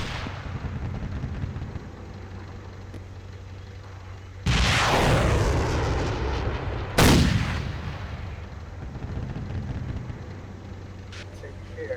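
Heavy cannon and gunfire in the tank game MegaForce: a loud booming blast at the midpoint, then a second sharp shot a few seconds later, each decaying over a steady engine rumble.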